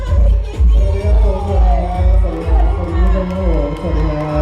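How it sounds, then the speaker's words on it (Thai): An audience at a shopping mall event cheers and claps to welcome a young MC, loud bursts of crowd shouting and whooping that rise and fall in waves, with voices mixed in. "ขอเสียงปรบมือต้อนรับน้องมิวนะคะ"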